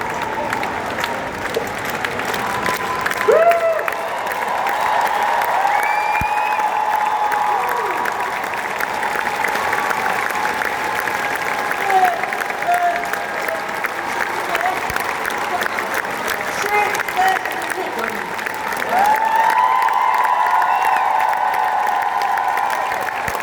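Loud, sustained audience applause and clapping fill the whole stretch, with crowd noise swelling again near the end and voices faintly mixed in.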